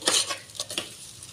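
Ground masala frying and being stirred in a pan for brinjal masala, with soft scraping and a few light clinks of a spoon against the pan over a faint sizzle, close by and alone.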